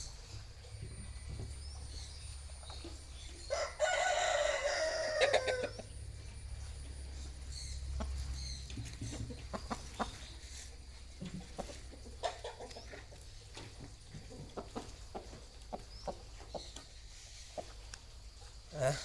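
A rooster crows once in the middle distance, a bright drawn-out call, over a steady low rumble and scattered clucks and knocks.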